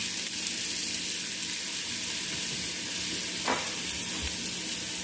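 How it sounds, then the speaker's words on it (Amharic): Onions frying in hot oil in a pan make a steady, even sizzle with a faint crackle, briefly marked by a soft stirring clink, and no one talks. "ዘይትን ካደረኩ በኋላ በመቀጠል ሽንኩርቱን ያው ያዘጋጀሁት ሽንኩርቴን አስገባለሁ ማለት ነው።"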